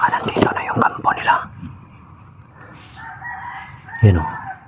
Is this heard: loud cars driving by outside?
no